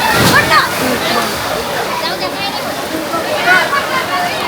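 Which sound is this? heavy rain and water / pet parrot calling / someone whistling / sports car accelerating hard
heavy rain and water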